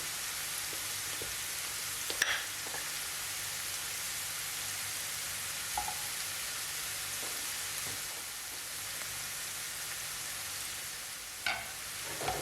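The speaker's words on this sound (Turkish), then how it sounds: "Suyunu çektikten sonra içerisine bir tatlı kaşığı dolusu tereyağı ekliyorum." Mushrooms fry in butter in a pan, giving a steady, close sizzle with occasional soft clicks and pops from stirring throughout.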